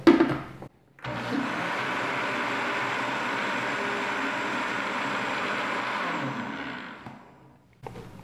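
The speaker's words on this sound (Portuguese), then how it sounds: "E agora eu vou bater isso tudo um pouquinho, para depois acrescentar a farinha," An electric blender beating pancake batter ingredients, a steady loud whirring drone that starts abruptly, runs about six seconds and winds down, heard alone.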